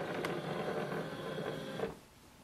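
An HP DeskJet 2755e printer scans a document with a steady mechanical whirr and hum close by that runs for about two seconds, then stops abruptly.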